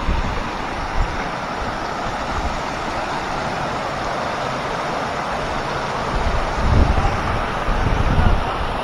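Strong gusts of wind lashing rain and spray during a monsoon motorbike ride from Pimpri to Khandi Point, a continuous roaring rush that swells louder toward the end, close and loud against the microphone.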